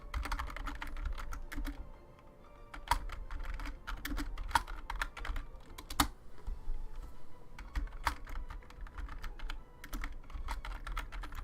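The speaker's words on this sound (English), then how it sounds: "Sorry, these keys are loud." Loud clicky computer keyboard keys are typed in quick irregular bursts with brief pauses, close up and continuous over a faint background hum, with no talking.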